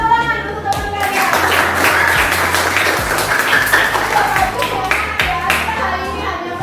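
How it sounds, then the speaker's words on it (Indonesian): Classroom students clap for a classmate, a dense burst of many hands applauding nearby for several seconds, with children's voices mixed in. "Oke, kasih tepuk tangan untuk teman kalian."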